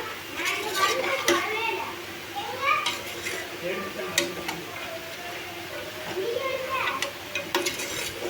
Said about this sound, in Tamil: நல்லா ஒரு கிளறு, தக்காளி நல்லா மசிகிற அளவுக்கு கிளறி விட்டுக்கலாம்